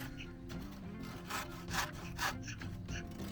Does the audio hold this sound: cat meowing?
no